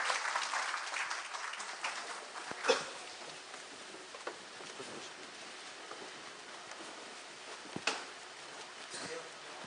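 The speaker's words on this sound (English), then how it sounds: "Please give them a warm applause." Faint, distant audience applause, a steady patter of many hands, follows a performance of the Korean folk song Arirang and Amazing Grace at a congress in Seoul, with a few sharper claps standing out.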